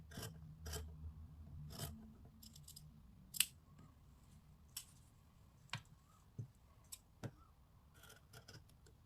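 Scissors snipping through a T-shirt to cut out a homemade fabric mask, with a few sharp, close blade snaps spaced irregularly against a quiet room background and soft rustling of cloth between cuts.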